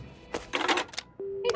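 In the video game Paranormasight: The Seven Mysteries of Honjo, a phone is dialed to call an ambulance: a few quick keypad clicks, then a steady electronic tone.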